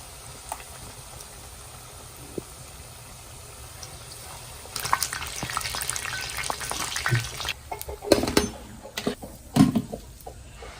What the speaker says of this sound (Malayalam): മാവിൽ മുക്കിയിട്ട് പഴംപൊരി എണ്ണ ചട്ടിക്ക് ഇട്ട് കൊടുക്കാം